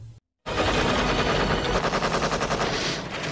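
Sustained automatic gunfire as a helicopter crew returns fire at a sniper in a war film: loud, close, rapid continuous bursts after a brief silent gap, with a pulsing rhythm and no talk.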